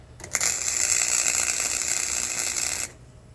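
Scrap metal is welded to make tools. A steady, crackling hiss begins abruptly, holds evenly for about two and a half seconds nearby, then cuts off.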